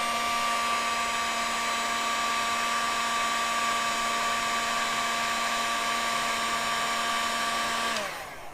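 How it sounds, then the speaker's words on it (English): A heat gun blows hot air in a motorcycle workshop, a loud steady whine with a constant motor hum that runs for about eight seconds, then winds down abruptly as it is switched off. "we're going to go with the heat gun"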